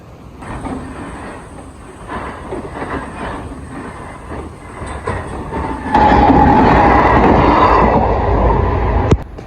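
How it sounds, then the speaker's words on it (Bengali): Train rolling past a closed level-crossing gate, a steady rumble with clattering wheels that swells suddenly louder and nearer partway through and holds there, with a brief sharp squeal near the end. "গেট পড়েছে আমাদের এদিকে, ট্রেন যাবে হয়তো"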